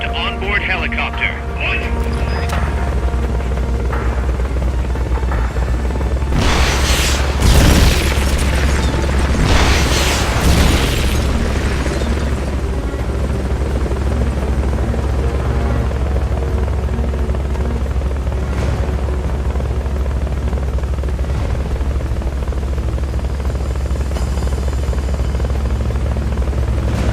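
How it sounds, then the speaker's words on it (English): A Fulton recovery helicopter in the video game Metal Gear Solid: Peace Walker drones with a loud, steady low rotor rumble throughout, broken by a couple of booming bursts, with speech over it. "Fulton recovery helicopter is complete."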